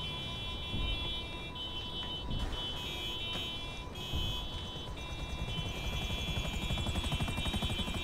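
A helicopter in a video game drones steadily with rotor chop throughout, loud and close, with a high alarm-like tone running over the top.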